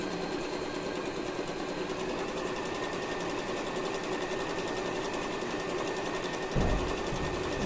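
An Usha electric sewing machine stitches cloth with a steady, fast mechanical whir that runs unbroken at close range, ending in a brief thump and a change of pitch near the end.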